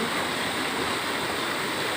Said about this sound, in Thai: น้ำไหล